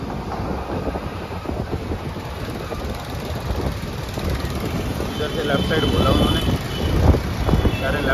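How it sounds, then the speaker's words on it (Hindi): Wind rushing past a moving motorbike on a road, a steady broadband roar that grows slightly stronger toward the end, with no clear talk over it. "अब हवा ज़्यादा चल रही है यार बाइक पर ना हवा तेज लगती है"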